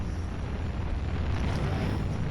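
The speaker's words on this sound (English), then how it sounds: "I feel like the explosion could have a bit more oomph behind it" Rocket launcher explosion in the Evolve video game, a broad, steady low rumble with hissing noise that fills the whole clip without a sharp attack, fairly soft and muffled.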